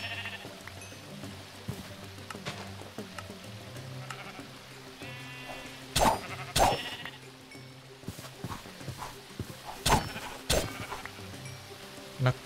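Sheep in the modded Minecraft game RLCraft bleat several times over a low background hum, with sharp loud calls clustered near the middle and end.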